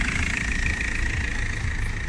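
BMW car engine with freshly cleaned injectors and replaced hoses, idling just after being started: a steady, close, low rumble with a constant mid-range drone and no talk.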